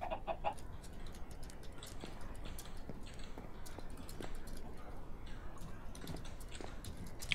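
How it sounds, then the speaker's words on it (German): Minecraft chickens cluck in short, scattered bursts amid soft ambient game noise and occasional footstep-like taps, faint and intermittent with a brief voice in the mix. "Wir haben offiziell vier Hühner hier drin."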